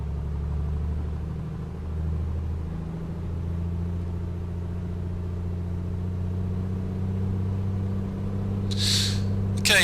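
A Piper Comanche 250 engine in a flight simulator game runs up to 2000 RPM on the ground, a steady droning rumble that rises in pitch early on and then holds evenly, with a brief clicking near the end.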